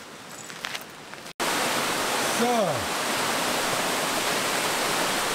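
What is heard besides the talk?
Allerheiligen waterfall rushing water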